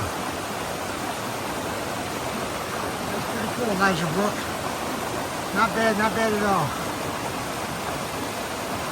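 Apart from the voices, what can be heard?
waterfall rushing over rocks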